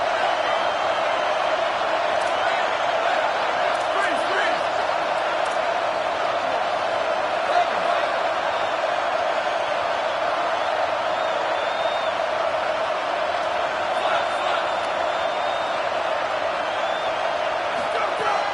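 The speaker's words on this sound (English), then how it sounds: "Here comes this home crowd as the defense tries to get off the field on third down." Home crowd at an Oregon at Utah American football game roars steadily as the defense tries to get off the field on third down, a sustained distant-sounding stadium din with no breaks.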